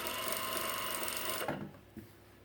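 A sewing machine hems the neck opening of a plain fabric poncho, running as a steady close whir for about a second and a half before stopping, followed by a couple of faint handling knocks.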